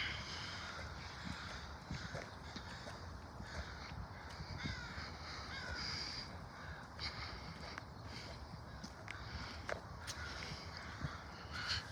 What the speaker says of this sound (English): the crows going for us